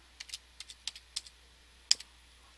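Computer keyboard typing while working in Photoshop, a handful of quick key clicks in short bursts followed by one sharper keystroke, close and fairly quiet with no talking.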